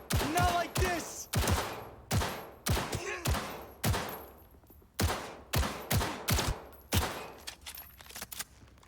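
Gunfire in the shooter game Cyberpunk 2077, about a dozen sharp, loud bursts and single shots in an uneven rhythm, each cracking and trailing off quickly, with faint game ambience between them.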